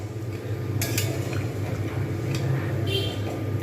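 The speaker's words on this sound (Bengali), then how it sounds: "এটা ভালো করে নাড়িয়ে দিলাম।" Coriander chicken stirred in a pan over medium heat: a few sharp metallic clinks of a spoon against the pan over a steady low sizzle, close and clear.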